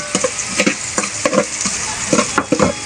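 Food fries in a pan until golden brown, a constant sizzle broken by quick rhythmic scrapes of a spoon or spatula as it is stirred, close and fairly loud.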